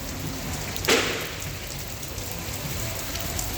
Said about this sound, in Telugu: చాలా వర్షం పడుతుంది గైస్